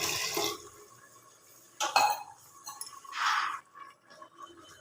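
Water is poured from a glass into a pot of rice for chicken biryani in a home kitchen, three short splashing gushes with quiet pauses and a light clink between them.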